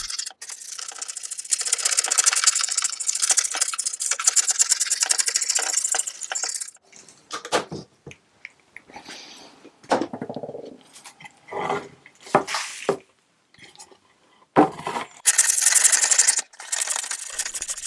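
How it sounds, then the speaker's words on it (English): Old layers of paint are scraped off a cheap wood and plywood veneer cupboard, with bursts of harsh, close scraping and intermittent scratchy strokes broken by short pauses, no voices. "Even though there was a lot of paint on this cupboard, it was quite easy to scrape it."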